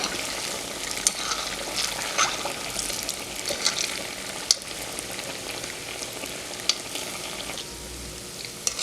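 Dates bonda fry in hot oil while being stirred with a spoon: a steady, close hiss and crackle of sizzling, broken by occasional sharp pops and clicks of the spoon, with no voices.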